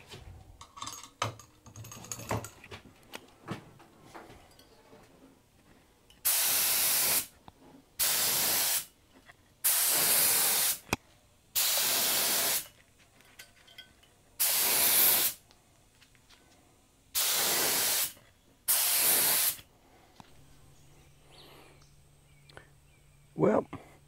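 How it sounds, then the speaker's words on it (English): Cerakote coating being spray painted onto a CB antenna mount for a CJ7, heard as a series of seven loud hissing bursts, each a second or two long, separated by quiet pauses with faint background sounds. "So let's get spraying."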